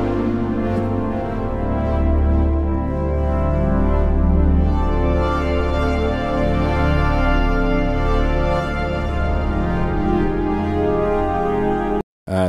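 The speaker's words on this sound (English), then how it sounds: "This is a cool, beautiful pad with motion that kind of grows and" Zebra2 software synthesizer pad patch with motion, a thick sustained chord whose tone slowly shifts and swells, playing loud and alone before cutting off abruptly at the end.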